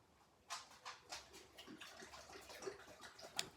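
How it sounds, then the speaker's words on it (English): A dog drinks water with soft, irregular lapping and slurping sounds in quick uneven bursts close by, with a faint background hiss. "Sorry, my dog is drinking some water. She's kind of loud."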